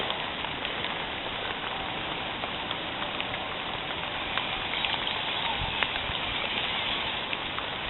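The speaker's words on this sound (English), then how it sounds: "It's getting so rainy" Steady rain falls in a dense, even hiss with scattered sharper drop ticks on nearby surfaces, continuous and moderately loud throughout, with no voices.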